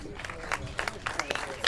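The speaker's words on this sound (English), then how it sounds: "Give him a round of applause, please." An audience at a cannabis coalition meeting in Phoenix applauds a speaker being introduced, a short burst of scattered, fairly faint clapping from a crowd, with voices mixed in.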